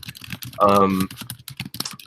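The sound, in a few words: typing on a computer keyboard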